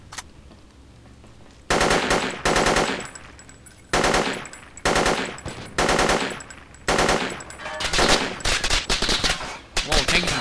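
Heavy gunfire in the video game Project Reality 0.97, on an insurgency map set in Karbala: loud, near bursts of automatic fire repeat over and over, separated by brief gaps.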